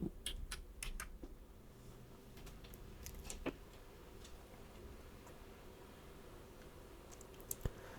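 Keystrokes tap on a computer keyboard during Python coding, in scattered quick bursts of clicks, quiet and close, with pauses between runs and a sharper click near the end; no speech.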